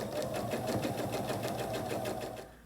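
A sewing machine runs steadily while stitching quilting lines through a vinyl pouch, a fast even rhythmic whir that stays close and loud before trailing off at the end.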